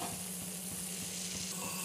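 Sugar syrup for Mysore pak bubbling in a pan, a faint steady sizzle with soft popping bubbles and no talking.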